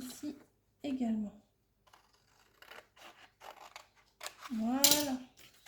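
Scissors cutting paper for a handmade album box, a few short dry snips and scrapes close by, broken up by someone talking quietly.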